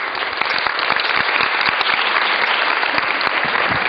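A crowd claps after a Turkish folk song at a gathering in Arapkir, a continuous, fairly loud burst of applause with distinct individual claps throughout.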